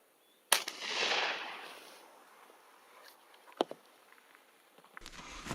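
A Mossberg 930 SPX semi-automatic shotgun firing Federal, Remington and Fiocchi shells outdoors at a 30-yard target: one loud sharp blast with a trailing echo, followed by fainter clicks and handling noises and a later sharp crack.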